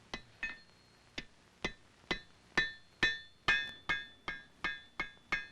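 A hammer forges iron for an 18th-century colonial gun part, striking about a dozen sharp metallic blows in a steady rhythm. The ringing strikes grow louder toward the middle and stand alone, close and clear.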